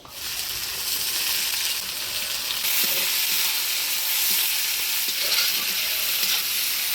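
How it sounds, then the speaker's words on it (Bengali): Chopped onions frying in oil with whole garam masala, dried red chillies and bay leaves, a steady loud sizzle with occasional stirring clicks, close and continuous throughout with no voice. "পেঁয়াজটা লাল লাল করে ভেজে নিলাম।"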